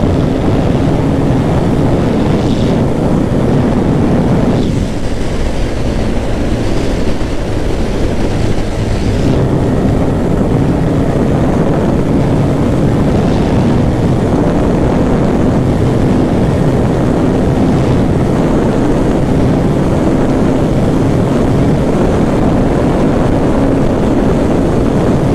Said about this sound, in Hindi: और इसको थोड़ा सा रेफ करेंगे, मतलब भगा के देखेंगे।